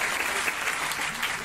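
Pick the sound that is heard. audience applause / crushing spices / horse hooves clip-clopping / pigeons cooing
audience applause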